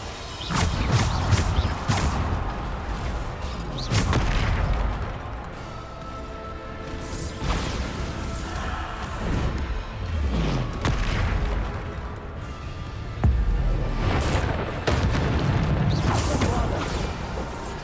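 Bombarda spell blasts in the video game Hogwarts Legacy, loud repeated booming explosions with crashes and whooshes in a dense, continuous game soundscape.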